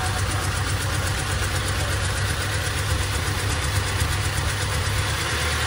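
A Toyota Fortuner engine with a misfire idles steadily with a low, even rumble and faint knocking pulse, continuous and close, with no talking.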